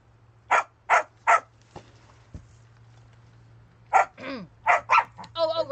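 Several dogs bark in sharp bursts, three clear barks early, then a quieter gap, then a cluster of barks and a yip near the end, fairly close by, with a steady low hum underneath.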